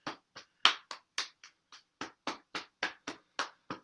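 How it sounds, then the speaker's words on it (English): A single person claps hands during a kundalini yoga stress-relief session, about fourteen distinct, crisp claps in an uneven rhythm, close and isolated against silence. "Give yourself a round of applause for showing up for yourself"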